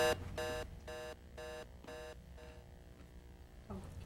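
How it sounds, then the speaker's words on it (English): An alarm goes off during a board meeting: five evenly spaced, bright electronic beeps ring out clearly, then trail into a fainter tone before a brief rustle, with no one talking. "I thought it was like a fire alarm."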